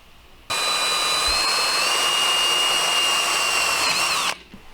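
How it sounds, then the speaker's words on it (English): A power drill whirs loudly for about four seconds while drilling a mounting hole for a bicycle four-stroke motor kit, starting abruptly and spinning at a steady high pitch before cutting off. "so I can have a general idea of where I need to drill this hole"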